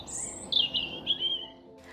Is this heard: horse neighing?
no